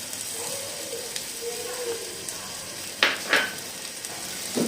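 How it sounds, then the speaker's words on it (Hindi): Chopped onion frying in half a cup of oil, a soft steady sizzle with a couple of sharp stirring clinks and scrapes of a utensil in the pan, fairly faint. "प्याज को थोड़ा सा सॉफ्ट होने देंगे।"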